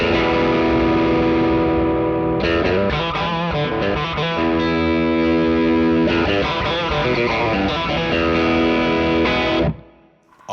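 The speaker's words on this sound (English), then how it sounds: "the asymmetrical has a little bit more of an amp-like sound" Electric guitar played through a GFI Jonassus Drive pedal set to asymmetrical clipping, thick distorted chords and riffs ringing out loud and alone, ending in a brief gap before another strum.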